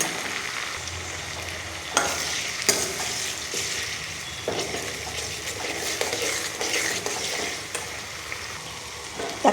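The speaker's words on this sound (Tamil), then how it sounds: "தக்காளி சேர்த்து இந்த அளவு சுருளில் வதங்கினதும் மிளகாய் மசாலா சேர்க்கணும்" Chopped tomatoes sauté in a pan for a turkey berry tamarind curry, with a continuous close sizzle broken by scraping stirs and light utensil knocks against the pan.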